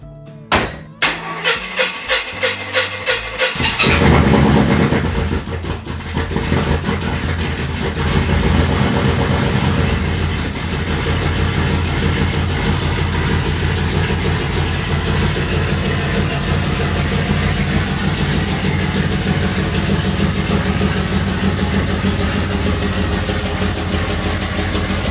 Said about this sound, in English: there's definitely a couple notable exhaust leaks